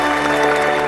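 Applause fills the short moment, a dense steady patter of clapping hands from a group, loud and close with no talk over it.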